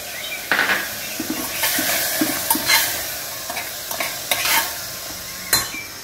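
Grated tomato frying for homestyle mutton soup, a steady close sizzle with scraping and stirring clicks from a spoon against the pan, and no talking.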